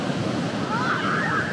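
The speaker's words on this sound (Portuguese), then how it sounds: "Olha só que mar, gente." Ocean surf breaking near the shore, a steady loud wash of waves with wind noise across the microphone, heard alone without talk.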